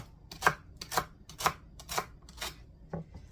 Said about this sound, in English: And then we're going to just cut this up really small.